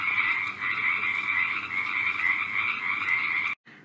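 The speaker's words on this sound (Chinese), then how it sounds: "是小青蛙在唱歌，" A small frog croaks in a continuous, even rhythmic trill that holds close and loud on its own before stopping abruptly.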